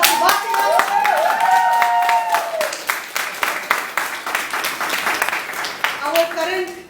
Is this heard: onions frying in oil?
no